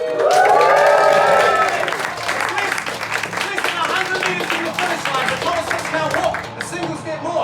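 A theatre audience cheers and claps, starting with a loud whoop of shouts that gives way to dense, continuous applause mixed with crowd noise.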